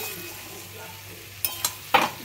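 Spice masala with green chilli and turmeric stir-fried in a pan, a soft steady sizzle under a few sharp scraping and clinking stirs near the end, close by and without voices.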